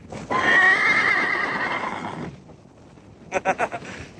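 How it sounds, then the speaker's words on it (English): A cattle-drive horse in Utah's desert lets out a long, loud whinny, then after a pause a few hoof clops land close by. "He's a good horse."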